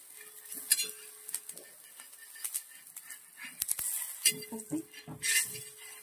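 Mini dhapate flatbreads cook in a little oil in a pan and get flipped with a spatula. A soft sizzle plays under intermittent metallic scrapes and clinks, and someone talks throughout.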